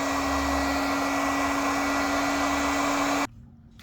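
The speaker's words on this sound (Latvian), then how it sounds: "ar fēnu šī te vieta jāsāk sildīt" A hair dryer blows hot air onto car window tint film, a steady loud whir with a constant hum that cuts off abruptly near the end.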